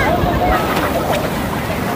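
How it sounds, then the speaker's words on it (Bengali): Big sea waves roar onto Swargadwar beach in Puri, a loud, continuous rush of surf mixed with heavy wind buffeting the microphone. "আজকে এত বড় বড় ঢেউ দিচ্ছে"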